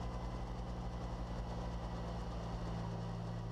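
Bell 47 Sioux helicopter piston engine at ground idle, a steady low rumbling drone with faint knocking vibration, continuous and even throughout.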